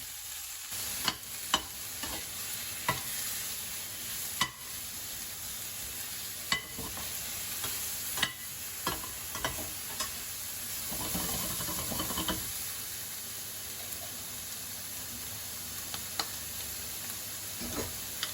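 Pork belly stir-frying in oil, a steady soft sizzle with repeated clinks and scrapes of a utensil against the pan, fairly quiet and without talk.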